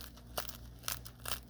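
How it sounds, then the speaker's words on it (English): Toasty crust of a large homemade white bread loaf crackles in three short crisp crunches spaced about half a second apart, close and quiet with no talking. "Listen to the crunch."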